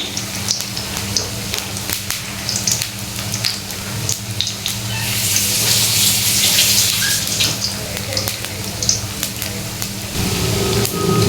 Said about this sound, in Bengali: আমি চুলার আঁচটা একদম লো দিয়ে ভাজবো